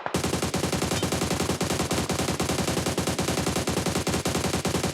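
Sustained automatic gunfire in PUBG Mobile, a rapid, continuous rattle of shots at an even rhythm, loud and close, filling the whole stretch with no talking.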